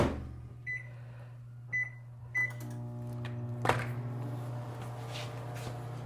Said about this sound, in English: I'm going to put it in the microwave for a second.